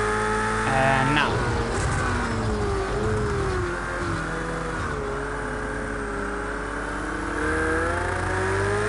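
A Porsche race car engine drones steadily in Project Cars 2 at Donington, with rising and falling pitch as revs climb and shift, loud and continuous with a sharp transient early on.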